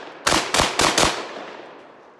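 Four quick shotgun blasts from a Panzer Arms AR12 firing 7.5 shot at an outdoor range, evenly spaced and loud, with a reverberant tail fading after the last shot.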